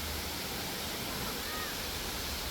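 Sai Yok Noi waterfall in Kanchanaburi during the rainy season, a constant broadband rush of falling water, steady and fairly faint, with no other sounds standing out.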